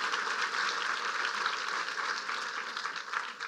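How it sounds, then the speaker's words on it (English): Audience applause at a New York women's agenda event, a steady dense wash of clapping from a crowd that holds at a moderate level throughout without speech. "So let's give them a round of applause."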